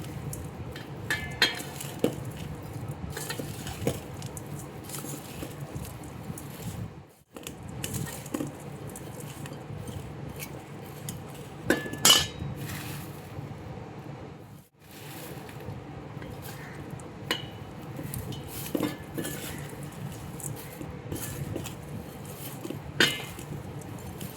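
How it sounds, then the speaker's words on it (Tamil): Fried onions being mixed into dried shrimp sambal, soft clinks and scrapes of a spoon against a bowl with irregular stirring, quiet and close, with two brief pauses. "வறுத்து வச்ச வெங்காயத்தை ஆட் பண்ணி நல்லா மிக்ஸ் பண்ணணும்"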